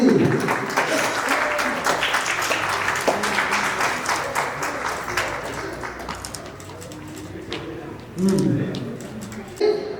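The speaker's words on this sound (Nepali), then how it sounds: "ताली।" Wedding guests clap in a lively burst that fades over several seconds, with voices and chatter mixed in and a few scattered claps and louder bumps toward the end.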